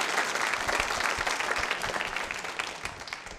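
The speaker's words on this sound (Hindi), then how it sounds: "तालियां बजाइए एक बार फिर सभी के लिए" Dense, steady applause from a large audience at a nursing college quiz show, filling the room throughout and easing slightly toward the end.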